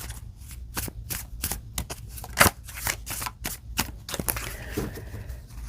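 A deck of cards being shuffled close by, a rapid series of crisp riffling snaps with a louder slap partway through.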